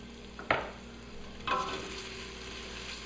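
Onions and garlic frying in a pan for a beef pot roast, a soft steady sizzle with two brief louder bursts of stirring or scraping, heard alone without voices.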